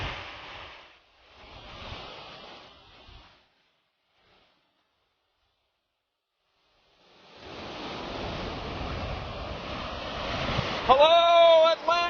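Atlantic Ocean surf rolls onto a Florida beach along A1A as a broad, wind-blown wash. It drops out to near silence partway through, then the steady rush of waves and wind returns, with a brief voice near the end.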